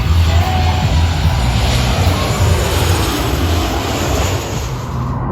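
A large airliner takes off at Maho Beach, St. Maarten, its engines producing a loud, continuous roaring rumble very close by, with no pause, easing slightly toward the end.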